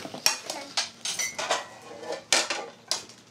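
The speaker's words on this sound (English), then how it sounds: "Put those dishes away." Dishes and cutlery being put away in a home kitchen, with repeated sharp clinks and clatters of plates and silverware in irregular bursts, close and fairly loud, with no talking.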